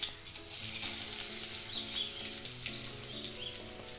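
Besan and maida flour stirred into hot ghee on a low flame, giving a soft, steady sizzle with faint scraping and light ticking, quiet and close.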